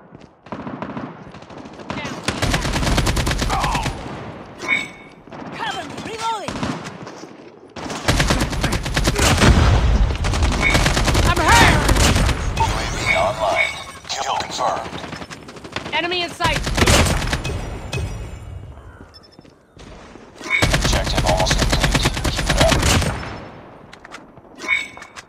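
Bursts of automatic AK-47 rifle fire in a first-person shooter video game, loud sustained volleys separated by short pauses, with a few clanks and dings between them.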